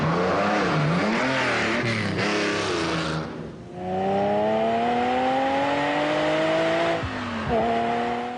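A Lamborghini Countach engine revs hard, its pitch climbing steadily through the gears, then dips briefly and climbs again as it accelerates away.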